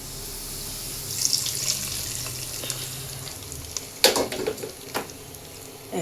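Fried onions poured into a pot of beef bone marrow nihari, a loud rushing sizzle with splashy bursts, then a sharp sputtering surge partway through followed by fading crackles.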